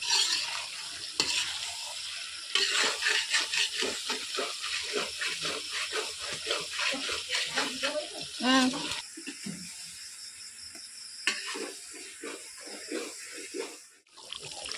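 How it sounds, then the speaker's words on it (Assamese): A vegetable fry sizzles in a pan while a spatula stirs it steadily to keep it from sticking, making rhythmic scraping over a constant frying hiss, with a voice talking at times. "সেইখিনি তলত লাগি ধৰিব বুলি ভালকৈ লৰাই আছে"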